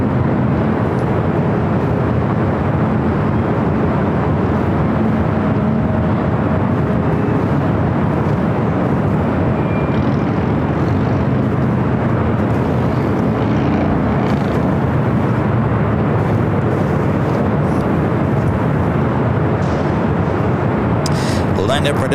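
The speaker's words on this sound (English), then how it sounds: "I'll show you the China Eastern 777-300ER continuing taxi down to Bravo, heading to 25 right" A China Eastern Boeing 777-300ER jet taxis at LAX, its engines giving a steady, loud, broadband roar that holds throughout with no clear change in pitch.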